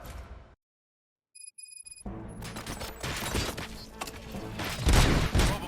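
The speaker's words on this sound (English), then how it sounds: "Gunshots? What's going on?" Gunfire erupts in RoboCop: Rogue City after a brief near-silence, a dense volley of loud shots and impacts mixed with game music and rumble, growing heavier toward the end.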